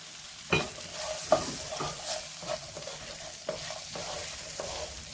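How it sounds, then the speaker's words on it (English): Sliced okra being stirred through masala in a frying pan, with repeated scraping strokes of a spoon over a steady sizzle, moderately close and with no talking. "Coat the okra, or ladyfingers, whatever you like to call them, in the masala"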